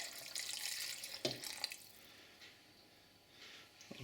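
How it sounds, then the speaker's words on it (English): Stock poured into a pot of beef stew gives a soft, steady liquid splash, fairly faint and close, then settles into quiet with a small clink near the end. "So I'll just put a bit more stock in until it's covered."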